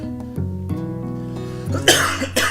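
Close, harsh coughing bursts from a single person, a couple of sharp coughs near the end, following a stretch of steady tonal background sound.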